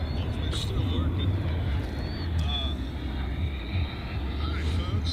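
Jet airliner taking off from the center runway at Chicago's O'Hare International Airport, a steady loud engine roar with low rumble heard from outside, continuous throughout.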